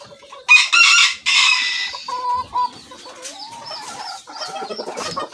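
Polish cap chickens, a flock of hens with one rooster, cluck loudly up close in short bursts, with a strained crow-like call near the start followed by choppy clucks and squawks.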